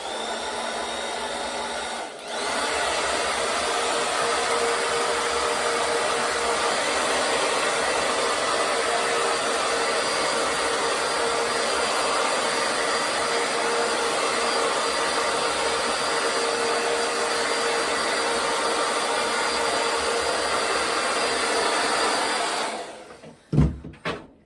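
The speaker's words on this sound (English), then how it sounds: "The old blow dryer out." A hair dryer blows steadily at close range for over twenty seconds, a constant broadband whoosh that starts abruptly and cuts off near the end.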